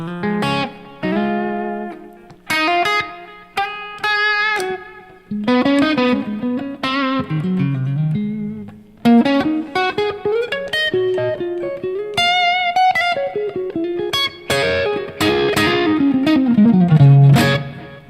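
An electric guitar rings out through delay and reverb effects, picked notes and chords trailing into repeating echoes and a sustained wash, loud and close, with no talking.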